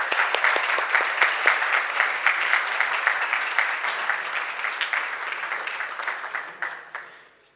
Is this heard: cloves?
no